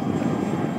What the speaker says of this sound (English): It's just a great flying airplane.